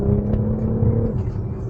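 A 2023 Audi SQ5 with a 3.0 turbo V6 accelerates with a steady low engine drone and rising whir, heard from inside the car, brief and continuous.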